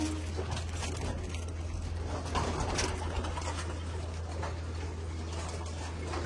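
Pigeons in a loft cooing softly amid a steady low hum and general rustling, with the calls blending into a continuous background rather than standing out as distinct notes.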